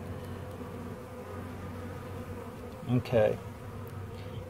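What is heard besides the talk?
honey bees buzzing in a beehive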